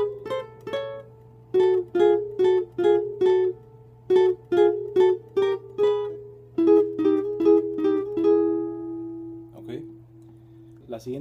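A plucked guitar plays a quick melodic phrase from a song, repeated notes in short bursts over a steady low hum, ending on a sustained note.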